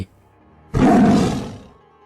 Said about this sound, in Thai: คือเสียงคำรามสุดท้าย ก่อนเสือตาบอดตัวนี้มันจะนอนแน่นิ่งไป